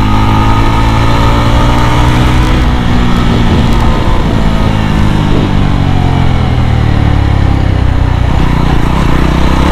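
A Yezdi Roadster motorcycle is ridden hard along an empty stretch of open road, its engine loud and close as it pulls and revs steadily under throttle with heavy wind noise and no speech.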